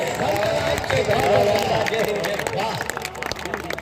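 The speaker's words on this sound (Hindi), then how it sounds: "एक बार भरपूर तालियों से आप विदा करें प्रख्यात मिश्रा को" Applause and cheering from the audience at a Hindi poetry gathering (kavi sammelan) at a college in Shahjahanpur, a dense, steady roar of clapping mixed with crowd voices and chatter.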